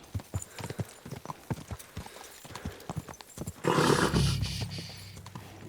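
A horse in the video game Kingdom Come: Deliverance 2 clip-clops with steady rhythmic hoofbeats, then a loud, roaring burst of galloping motion takes over in the last couple of seconds.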